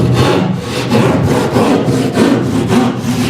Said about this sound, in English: we can take our saw and we can just start angling it down towards the bottom of our opening